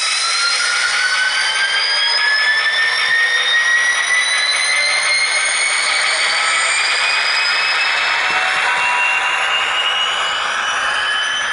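An HO-scale V/Line G class model locomotive with DCC sound pulls away, giving a loud, continuous diesel whine with slowly shifting tones and no talking.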